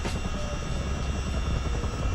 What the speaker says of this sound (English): we'll leave the helicopter running